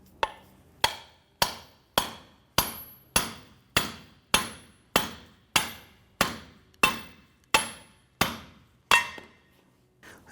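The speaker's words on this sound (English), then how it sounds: "we're just going to use a hammer and we're going to strike this down" Heavy metallic hammer blows ring out one after another in a steady rhythm, about a dozen sharp strikes with short ringing decays, close up, as a hammer strikes a front lower ball joint on a 2004-2008 Acura TL to pop it out.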